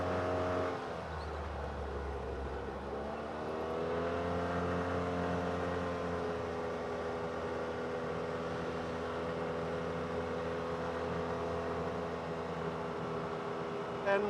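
A UTV engine drones steadily on a woodland trail ride near Eagle River, Wisconsin, a continuous mid-pitched hum with light wind and road noise and no voices.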